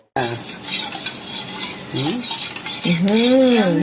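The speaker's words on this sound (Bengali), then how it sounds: "যে আমি এখন মেখে নিচ্ছি পাউরুটি দিয়ে, তারপরে ডিম টোস্ট করবো তেলে ভাজবো।" Egg being mixed into bread for egg toast, a wet stirring and scraping of utensil against bowl that runs steadily close by, with a brief clink of cutlery and no talking.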